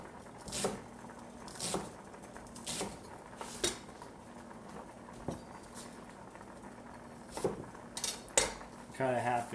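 A kitchen knife slices vegetables for a stir fry on a cutting board, giving a run of separate, fairly quiet chops at an uneven rhythm, with light clinks of utensils and dishes between them.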